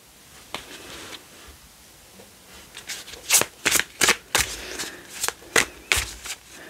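Tarot cards are shuffled and drawn by hand, a run of crisp riffling flutters and slaps that grows louder and more rhythmic, close up with no talk over it.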